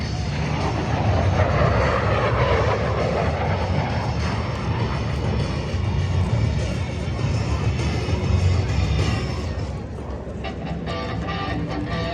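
A loud, steady jet warplane roar at the Wings Over Solano airshow fills the air continuously, with a broad rushing drone that shifts slightly in tone as the aircraft passes overhead.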